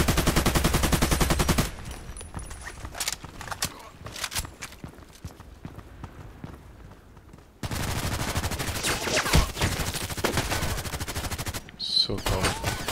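PDR-C submachine gun fire in the shooter game Contract Wars on the Evac map comes in loud rapid automatic bursts at the start and again in the second half, with quieter footsteps and scattered single shots in between.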